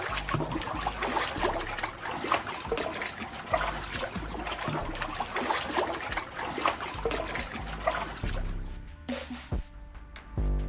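Water splashing and sloshing as someone wades on foot through a cold mountain stream over sharp stones in Uttarakhand, a steady loud churn of flowing water that thins out near the end.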